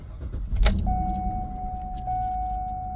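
A 2009 GMC Yukon Denali with a 6.2 V8 and about a quarter million miles gives a brief crank, then settles into a low, steady idle under a continuous dashboard chime.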